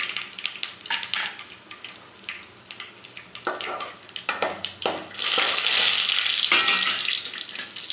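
Mustard seeds, urad dal and dried chillies are tempered in hot oil in a pan. They crackle and pop sharply, close by, and the sound grows into dense, steady sizzling with occasional utensil clinks and no speech.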